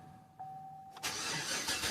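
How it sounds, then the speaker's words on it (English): A 2007 GMC Yukon with a 5.3L V8 cranks and fires up about a second in, its broadband engine roar starting abruptly after a faint electronic tone and then holding as a steady, close idle. "And then you want to start your engine."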